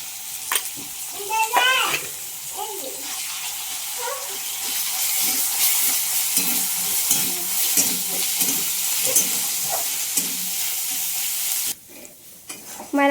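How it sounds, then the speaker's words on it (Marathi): Potatoes frying in a pan as a ground garlic, coconut and coriander paste is added, giving a steady close sizzle with stirring scrapes and a few clinks throughout, and a brief voice near the start. "आता लसूण खोबरं कोथिंबीर ह्याचं वाटण हे टाकायचं आहे"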